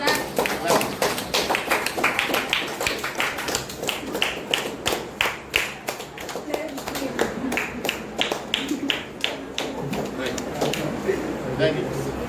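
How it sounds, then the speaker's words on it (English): A classroom claps during a badge presentation for the weekly English grammar inspector, with quick uneven claps and taps running throughout, voices murmuring beneath. "Clap."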